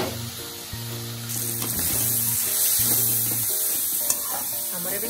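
Prawns fry in hot oil in a kadai, a loud, close sizzling hiss that surges in after a quieter start and holds steady with occasional crackles.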